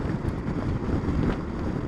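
Heavy, buffeting wind roars across the microphone in a steady low rush on a moving Yamaha XMAX 250 scooter on a windy day, with no voices.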